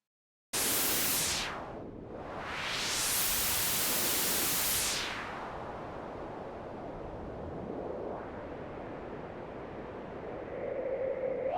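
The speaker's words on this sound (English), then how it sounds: "Try white noise." Synthesized white noise from a Cherry Audio Crumar Spirit software synth starts abruptly, its filter sweeping down and back up, then settles into a steady, duller rush.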